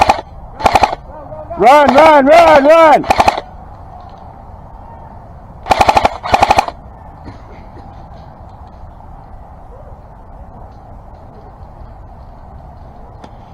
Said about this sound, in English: I'm just playing suppressive fire.